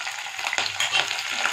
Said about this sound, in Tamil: மிளகா போட்டு வதக்கினதுக்கப்புறம்